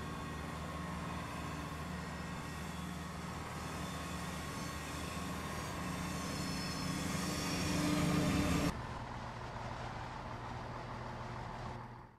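Steady diesel rumble of a Class 170 DMU train running in Train Simulator 2015, a continuous close engine drone with rail noise that swells briefly before the tone drops and settles into a quieter steady hum.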